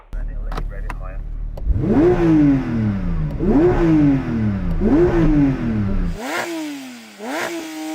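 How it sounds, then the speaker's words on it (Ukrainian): A Porsche 911 engine revs at full throttle in three rising, roaring sweeps that fall back between pulls, followed by a sharper, higher blip near the end, loud and close, with a voice at the start. "Давайте послухаємо, як звучить Порше"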